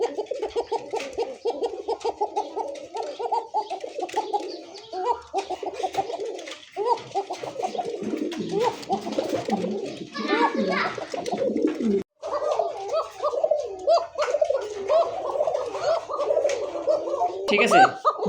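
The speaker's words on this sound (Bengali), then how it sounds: "কবুতরই দেখেন" Pigeons in a loft coo continuously and loudly up close, overlapping rolling calls in a busy chorus with little pause.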